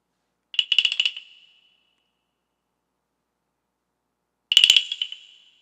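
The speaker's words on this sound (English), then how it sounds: "So yeah, baby rattle." A baby rattle shaken with added reverb gives two short, bright bursts of rapid clicks a few seconds apart, each trailing off in a reverberant tail with silence between.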